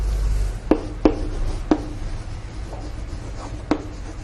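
A pen writes notes on paper in a quiet room, a few distinct scratchy taps and strokes spaced irregularly over a low steady hum, with no talk.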